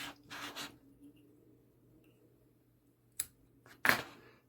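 Scissors snip cotton wick to length for a vape coil in an Asmodus Anani MTL RTA, a couple of quiet early snips followed by two sharper, brief cuts near the end against a faint background hum.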